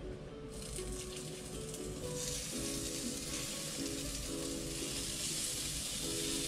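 Bell peppers sizzle and reduce in a hot frying pan, a continuous crackling hiss that grows a little brighter partway through and carries on steadily without any speech.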